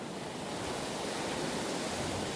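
Flowing water nearby, a steady broadband rush with no breaks or voices, fairly faint and even throughout.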